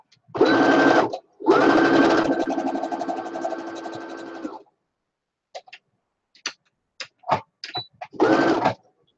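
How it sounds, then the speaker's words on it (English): A sewing machine double stitches a no-pattern apron in two close, loud bursts of fast stitching, then scattered clicks and handling noises before one more short run. "And I did a double stitch at the end."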